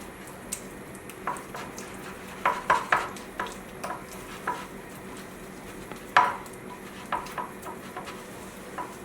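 A spoon stirs salt into a thick beetroot mixture in a bowl, making intermittent close scrapes and soft wet clinks in irregular bursts, with quieter gaps between them and no talking.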